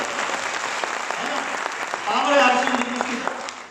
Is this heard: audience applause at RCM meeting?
yes